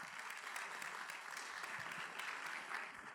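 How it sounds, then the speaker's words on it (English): Steady applause from a business meeting audience, a dense even patter of many hands clapping at moderate distance, sustained without a break. "Everybody clap."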